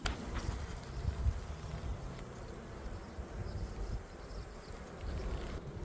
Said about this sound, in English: looks like we got some bees in the top